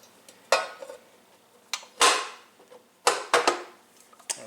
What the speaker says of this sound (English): just setting the lid back in place